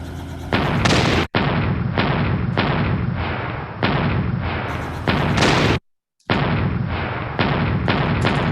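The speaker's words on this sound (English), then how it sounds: "this is a cannon game" Loud, booming cannon blasts in a Scratch cannon game repeat in quick succession, several heavy shots with sharp onsets and brief gaps between them.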